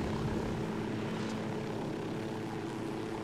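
A helicopter in the video game Ghost Recon drones steadily throughout, a continuous close rotor and engine roar at even loudness with no talking.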